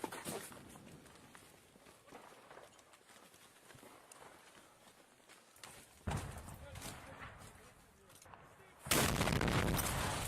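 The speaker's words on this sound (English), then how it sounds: "We see artillery practically exploding on top of them as the unit continues to try and move out." Artillery shells exploding close to a unit trying to move out in Ukraine war combat footage: a rough, rumbling field ambience breaks into two loud, heavy blasts about three seconds apart, the second harsher and sustained.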